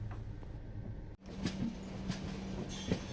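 The Bodinayakanur AC express rolls along with a low, steady hum and faint rhythmic clicks and rattles from the rails. A brief dropout is followed by the continuing drone of the moving coach.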